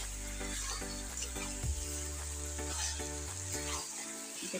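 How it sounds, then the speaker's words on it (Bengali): Chicken pieces fry in a pan while being cooked down before water is added, giving a steady, close sizzling hiss with scraping stirs, no talking. "এবার এটা একটু ভাজা ভাজা হবে,"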